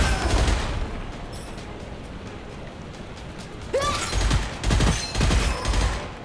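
An automatic weapon fires in three-round bursts in the shooter game Gunfire Reborn, with several clusters of punchy shots and booms over a background game rumble.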